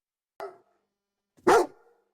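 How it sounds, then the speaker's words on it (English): A large black dog gives two sharp barks in quiet surroundings, a short one followed a second later by a louder, deeper bark, with no talking. "the huge black dog still barking up at the window"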